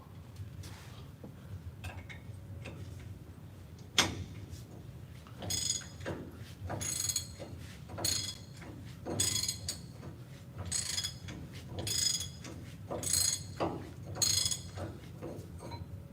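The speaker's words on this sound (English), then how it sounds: "Might have to get my wrench on there some more and unloosen it more." Repeated metallic ratcheting clicks from a wrench working loose a wheel's lug, coming in short irregular bursts of clacks and turns, close and fairly quiet over a low background hum.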